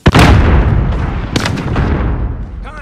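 Frag grenade blast and gunfire in Call of Duty: Modern Warfare, a loud close boom opening into sustained rumbling fire with another sharp report midway, a dense battle mix throughout.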